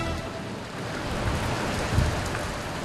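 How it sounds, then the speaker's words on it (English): Steady roar of a storm with rain and wind buffeting, loud and continuous with a brief low thump, heard during a morning news broadcast about hail and strong winds. "Many of you awoke from your sleep this morning to hail and strong winds."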